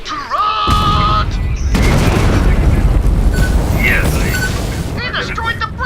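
A bridge blown up in a video game erupts in a loud, sustained explosion with rumbling debris lasting several seconds, and voices speak briefly before and after the blast.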